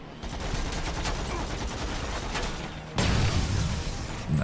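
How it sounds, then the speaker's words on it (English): Gunfire and a grenade blast in the Terminator Resistance video game: a rapid rattle of shots, then a sudden louder burst of explosive rumble near the end, close and dense. "So let's try and do the grenade."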